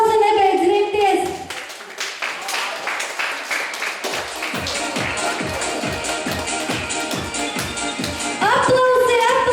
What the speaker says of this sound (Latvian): Aplausi nebeidz rimties!